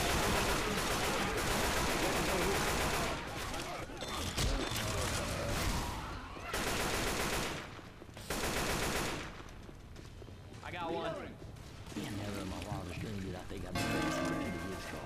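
Gunfire from shooting zombies in Left 4 Dead 2, loud bursts of rapid shots separated by short quieter gaps, with players talking over the action.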